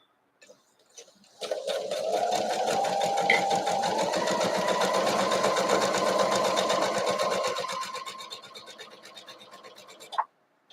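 A quilting sewing machine running at a steady fast stitch for several seconds, loud and close, then slowing and stopping with a final clunk.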